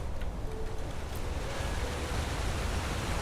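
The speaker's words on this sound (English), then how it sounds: "So after that, that's a little waterfall." Small waterfall in the open-world RPG Enderal, a steady, dense rushing roar of falling water that holds evenly from start to finish with no voices.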